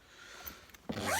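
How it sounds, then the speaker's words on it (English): A zipper pulled closed on the cloth bag of a 2016 Kirby Avalir vacuum cleaner, one quick rising zip near the end after a quiet stretch of soft handling noise. "Zip it up."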